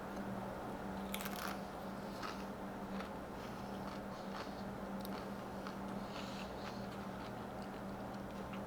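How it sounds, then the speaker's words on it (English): A tortilla chip loaded with jalapeno popper dip is bitten and chewed, giving faint, close crunches in a few quick clusters over a quiet room hum. "Crunch warning right now, by the way."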